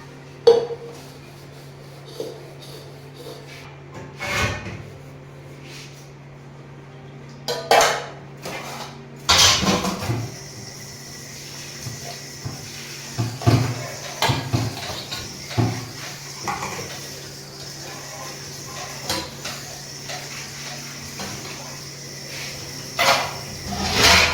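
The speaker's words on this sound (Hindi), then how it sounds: "अब बर्तन धुल गए हैं" Dishes and cutlery clatter and clink intermittently, with running water and scattered knocks of pots, fairly close and busy throughout.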